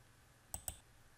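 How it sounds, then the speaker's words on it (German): Two quick computer mouse clicks in close succession, crisp and near but quiet, over a faint background hiss with no talk. "Ich klicke dazu auf Video bearbeiten."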